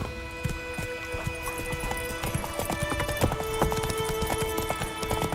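Hooves of Roach, a horse in The Witcher 3, clip-clop steadily at a gallop, a close, rhythmic beat layered over game music with a faint whinny-like tone.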